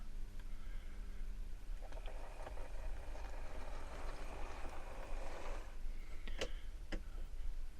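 Bachmann Blue Peter model locomotive running on a track, a faint, soft mechanical whirr that swells for a few seconds with light ticking clicks, quiet and alone.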